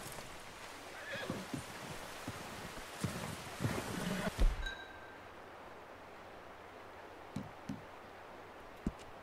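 A horse whinnies loudly near the start in the video game Red Dead Redemption 2, followed by quieter rustling and a few scattered soft knocks.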